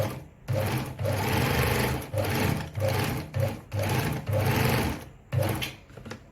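A Veritas zickzack model 8014/29 sewing machine stitches in a run of rhythmic mechanical bursts, with short pauses between the stitching runs. It is close and fairly quiet.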